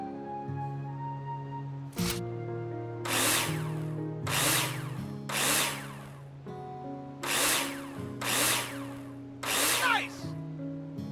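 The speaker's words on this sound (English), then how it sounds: "Take your drill out and screw them in." A cordless drill in Builder Simulator drives screws into plasterboard in a run of about six loud bursts, each a second or so long with short pauses between, over a steady background music drone.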